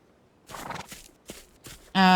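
Horse hooves clip-clop in the video game Far Lands, a few soft irregular steps followed by a sudden loud, bright tonal burst at the end, with no voices.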